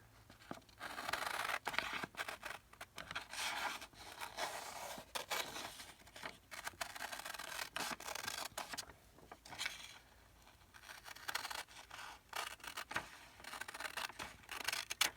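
Scissors cut paper pieces for an embellished trifold tag wallet folio, making quiet close snips and rustles in irregular bursts, with brief pauses as the paper is handled.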